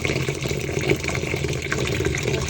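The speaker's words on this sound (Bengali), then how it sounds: "এখন আমি এই ডালটাকে ভিজিয়ে নেব, কারণ ভিজালে তাড়াতাড়ি সিদ্ধ হবে।" Water is poured over fried mung dal to soak it, a steady close gurgling pour lasting a couple of seconds.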